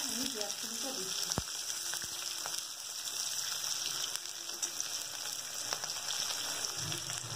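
Chopped onion fries in hot oil in a pan for a Bengali tangra fish curry with onion stalks and brinjal, producing a steady crackling sizzle with scattered pops and a couple of sharp utensil taps.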